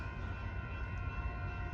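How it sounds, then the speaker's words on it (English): Caltrain train 515, a San Jose to San Francisco limited-stop service, approaching the station with a steady low rumble and faint sustained tones, distant and continuous. "8:35 approaching is train 515."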